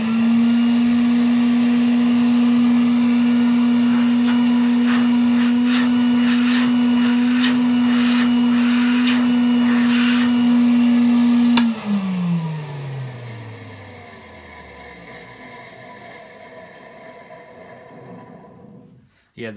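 A 1961 BYLOC table vacuum cleaner with dry bearings runs as a loud, steady whine with a buzzing motor tone, then switches off and winds down, the pitch sliding lower as it fades to near silence.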